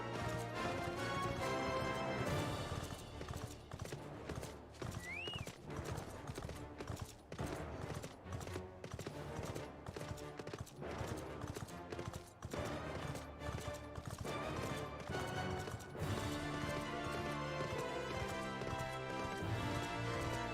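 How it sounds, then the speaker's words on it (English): A horse mount in a video game trots with steady, rhythmic clip-clopping hooves under dramatic music, fairly quiet overall, with a brief neigh early on. "Ah, now I'm on a horse."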